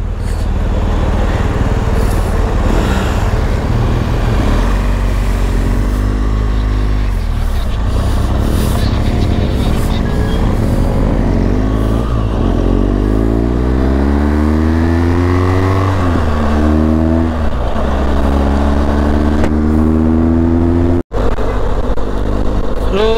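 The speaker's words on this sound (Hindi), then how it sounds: "अरे मैंने ना थाना में एंड्यूरो मोड पे डाला था बाइक" A touring motorcycle ridden in enduro mode rumbles close by on a long highway ride, its engine rising and falling in pitch through repeated revs and gear changes, with wind noise and a brief voice early on.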